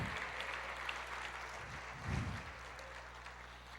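A church congregation applauds, a soft, distant wash of clapping that swells briefly near the middle before settling back.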